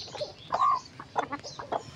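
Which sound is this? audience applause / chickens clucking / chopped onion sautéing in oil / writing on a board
chickens clucking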